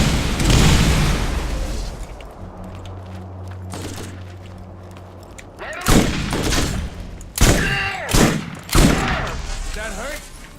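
SMG fire rattles in Borderlands, with loud rapid bursts and booming impacts in a combat scene, the heaviest volleys clustered near the end amid other battle noise.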